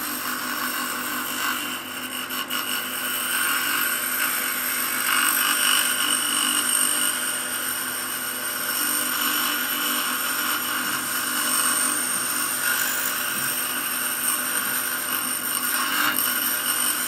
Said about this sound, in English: do the grinding on the grinder